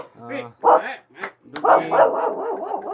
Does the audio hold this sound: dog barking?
yes